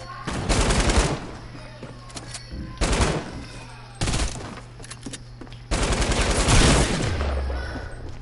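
Automatic weapons fire in a multiplayer shooting video game, rattling out in four loud, close bursts of rapid shots separated by short pauses.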